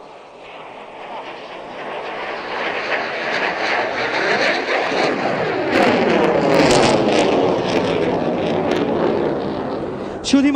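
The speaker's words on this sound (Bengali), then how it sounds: "ডান দিকে প্যারেড গ্রাউন্ডের দক্ষিণ আকাশে MiG-29টি প্রদর্শন করবে" A MiG-29 fighter jet flies a slow-speed handling display over a parade ground, its loud roaring engine swelling steadily and staying strong to the end, with faint voices underneath.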